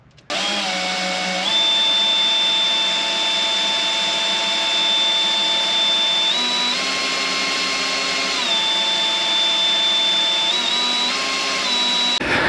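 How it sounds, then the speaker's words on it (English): A power drill retracting an RV slideout runs continuously and loudly, its motor whine holding steady with small shifts in pitch as it labors under load. "This one took about 3 or 4 minutes of drilling to get the slide all the way in."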